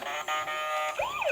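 A toy ambulance siren plays a steady electronic tone, then shifts into a rising and falling wail, close and fairly loud with no talking.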